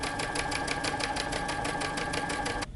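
A sewing machine stitches down a folded T-shirt neckband in a rapid, even mechanical rhythm up close, stopping abruptly just before the end.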